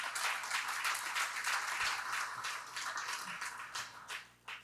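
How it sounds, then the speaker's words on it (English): Audience at a conference closing session applauds panelists and speakers, a dense wash of clapping that stays steady for several seconds then thins slightly near the end. "one last round of applause for the panelists and the speakers"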